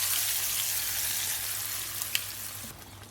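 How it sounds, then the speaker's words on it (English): A hot tempering mixture with about 15 curry leaves sizzles steadily as it goes into a creamy coconut mango curry, a continuous loud frying hiss with a brief crackle near the end. "Give it a quick mix and immediately add this sizzling mixture to our curry."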